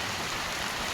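Steady rain pours outdoors at a rural campsite in the Thai countryside, a dense, even hiss of falling water close by with no voices.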